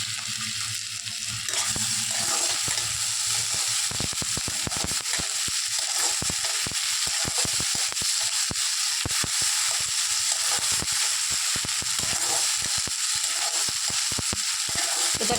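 Onion with ginger-garlic paste and spices sizzles and crackles steadily in a hot pan, with stirring scrapes throughout and no talking.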